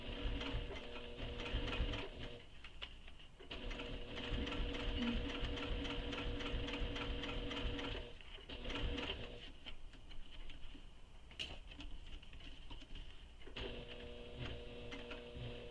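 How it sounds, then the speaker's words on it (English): A sewing machine back-stitches the seams of a fabric bag, whirring nearby in several runs of varying length broken by short pauses, with no talking. "I'm going to back stitch a little bit."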